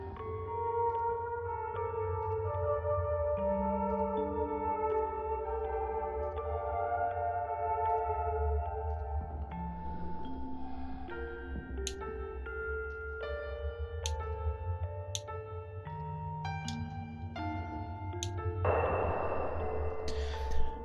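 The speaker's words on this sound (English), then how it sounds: "I might remember more if I play it on the piano." Soft piano melody from the game Fatal Frame: Mask of the Lunar Eclipse with sustained notes over a low humming backdrop, gentle and moderately quiet, a few bright chimes near the end.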